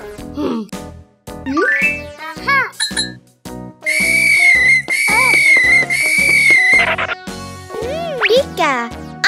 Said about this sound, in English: just blow the whistle.